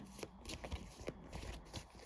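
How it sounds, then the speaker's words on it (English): A deck of cards shuffled while reshuffling the draw pile during a solo game of the tabletop card game Witchcraft!, several quick riffling and rustling bursts close up, no talking. "We'll have to shuffle up the pile because we ran out."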